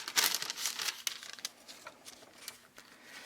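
Wax paper crinkles and rustles in a series of crisp, close crackles, loudest at the start and thinning out, as it is laid into a die-cutting sandwich of cutting plates and dryer sheets.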